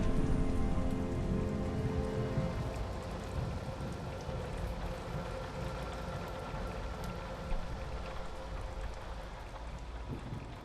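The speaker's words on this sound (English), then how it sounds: "It's raining." Steady rainfall at night patters continuously on surfaces, a dense wash of drops with a low rumble underneath, even and unbroken throughout.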